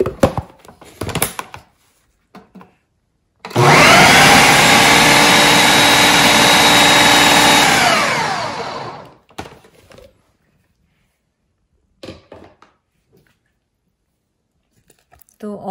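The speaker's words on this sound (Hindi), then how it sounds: "तो ये चने अब आप थोड़े थोड़े करके इसमें डालें और इन्हें ग्राइंड कर लें।" Blender grinding chickpeas for hummus, a loud continuous whirring grind running about five seconds with a falling pitch as it winds down, with clattering and brief handling noises before and after.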